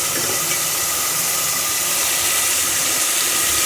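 Potatoes and carrots go into a pan of hot masala with peas for a mixed vegetable curry, giving a steady, close, loud sizzle and hiss that runs unbroken with no talking.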